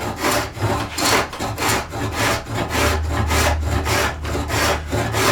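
A scratch stock scrapes steadily along a wooden molding profile, with repeated rasping strokes in an even back-and-forth rhythm, close and fairly loud, and no talking.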